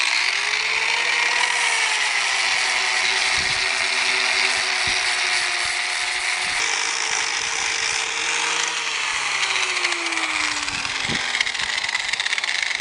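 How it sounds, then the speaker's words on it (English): An angle grinder fitted with a flapper disc grinds a shofar horn, a loud continuous high whine with shifting pitch as the disc bears on the horn, running steadily throughout with no talk. "I've got a flapper disc on this. It's just your basic angle grinder."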